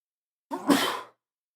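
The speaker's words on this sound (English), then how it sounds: "Had to sneeze there" A single sneeze, close and abrupt, with a short breathy intake before the burst and silence around it.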